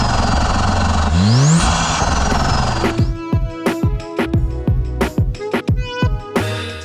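A 2025 Lotus Emira Turbo SE's 2-litre turbocharged Mercedes A45S engine revs up with a rising whine, then fires through a rapid series of sharp revving bursts and gear-change pops, loud and close.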